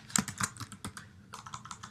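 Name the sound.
typing text on iPad on-screen keyboard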